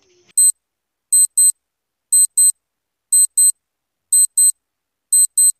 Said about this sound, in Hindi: आपका टाइमर शुरू हो गया